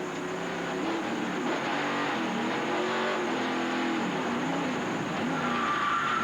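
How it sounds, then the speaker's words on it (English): Stock car engine keeps idling and droning steadily after a spin during a 1996 Busch Grand National race, heard from the in-car camera as a low constant rumble with some tire noise. "But he keeps the engine running."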